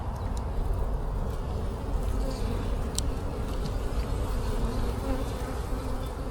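A dense, steady drone of many honey bees buzzing up close on a hive frame, constant and low without pause.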